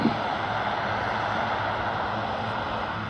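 Aircraft engines roar steadily in reverse thrust during a short landing run, a loud broad sustained rush that holds constant and close throughout.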